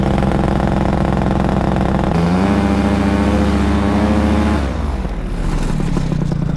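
A nitro engine on a model aircraft runs steadily and loudly at close range during a run-up, climbs to a higher-pitched sustained whine for a couple of seconds, then drops back toward a lower, rougher note.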